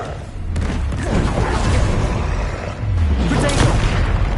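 Confringo fire-blast spell being cast in the Hogwarts Legacy video game: booming, dense explosive bursts with crackling debris, loud and sustained across the span, one heavy blast around the middle onset and another swell near the end, amid game combat noise.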